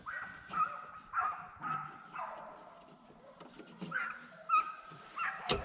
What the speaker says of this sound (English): There's 4 dogs on that one spot.